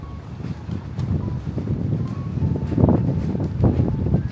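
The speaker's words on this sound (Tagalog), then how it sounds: "Lakas na hangin." Strong wind gusts rumble against the microphone on a street in Tokyo, Japan, swelling louder in bursts over a steady, blustery background.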